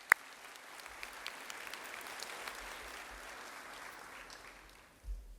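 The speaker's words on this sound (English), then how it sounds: "Let's give another round of applause for all of the folks here." A student convocation audience applauds in a steady, fairly quiet wash of clapping that stays even for several seconds before tapering off, with no voices on top.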